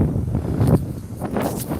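Wind buffets the microphone in low, rumbling gusts, a rough blustery roar with no clear voices.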